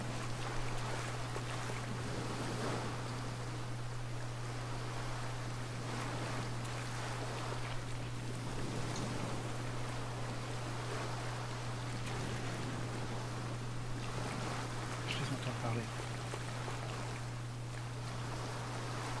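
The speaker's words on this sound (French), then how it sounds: "J'espère que le bruit du moteur va pas les attirer" A boat engine in Ghost Recon Breakpoint drones steadily at a constant low pitch throughout, with wind and water wash running beneath it and no talking.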